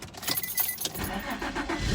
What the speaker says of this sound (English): So when I turn on the vehicle